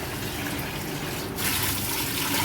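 Steady running water from a tap splashes onto rice being washed in a bowl, growing a little louder and brighter partway through, with no voices.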